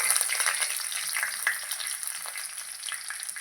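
Curry leaves hit hot oil and fry in a dense, steady sizzle with crackling spits, close and continuous, with no voices.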